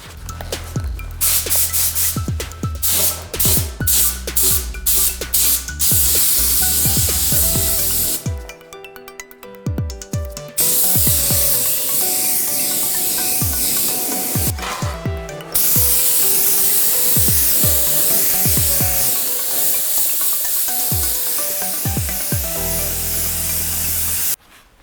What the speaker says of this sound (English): next I will paint the frame and I will give it a big shot of deep black base coat